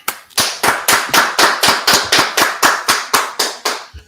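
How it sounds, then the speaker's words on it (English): Sharp, evenly spaced claps or knocks, about a dozen in a steady rhythm, loud and close with no voices. "All right, let's clap it up."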